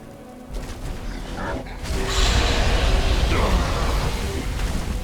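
A Greybeard unleashes a Thu'um shout at the Throat of the World in the Skyrim video game: a booming, roaring voice blast that swells suddenly and rumbles heavily for several seconds.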